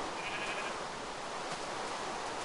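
Sheep bleating in Minecraft, a steady wash of game noise with a faint, thin bleat rising early and no voices.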